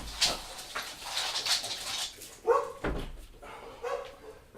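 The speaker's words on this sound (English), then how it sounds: "They like to bark at everything, and one feeds off the other." A dog barks several times in short, separate bursts, fairly close, with quieter gaps between and no talking.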